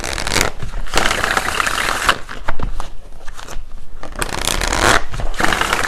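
Tarot cards are shuffled with dense, rapid riffling and flicking, close and loud, a few pauses between bursts as cards are drawn; no talking.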